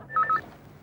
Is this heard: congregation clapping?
no